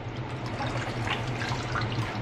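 A cleaning sponge is dipped into water mixed with vinegar, giving a soft, continuous sloshing trickle that stays faint and steady with no voices.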